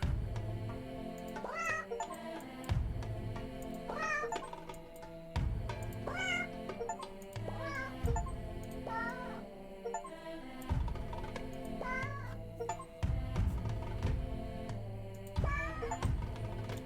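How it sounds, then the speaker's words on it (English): Repeated cat meows from the 100 Cats puzzle game, each short mewing call recurring every couple of seconds over a looping, rhythmic musical backing, clear and steady. "there's a cat that actually exists in real life walking around"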